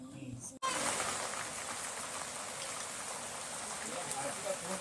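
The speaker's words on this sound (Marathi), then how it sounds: "हा पाऊस पण किती लागतो बघा" Steady rain pours down outside a house in the Konkan countryside, a dense continuous hiss right after a brief dip, with no voices breaking through.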